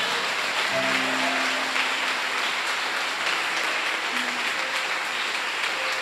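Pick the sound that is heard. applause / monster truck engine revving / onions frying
applause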